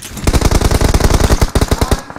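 Rapid automatic gunfire from PUBG Mobile rattles loud and near in two quick bursts, with a brief gap between them.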